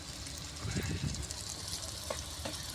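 Garlic is dropped into a pan of frying onions at an outdoor riverside picnic, giving a close, steady sizzle with a brief burst of crackling as it goes in, while someone speaks.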